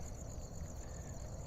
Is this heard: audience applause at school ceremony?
no